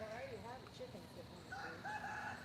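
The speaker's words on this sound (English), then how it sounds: "A couple of roosters." A couple of roosters crow, fairly faint and at a distance, with one long call near the start and another drawn-out crow in the second half.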